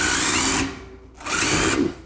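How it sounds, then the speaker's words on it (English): A power drill drives a self-drilling screw into steel framing. There are two loud, close whining bursts of the motor with a brief quiet pause between them. "Be real careful if you're using a drill like this."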